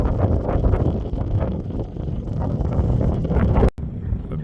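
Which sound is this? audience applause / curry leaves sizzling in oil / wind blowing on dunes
wind blowing on dunes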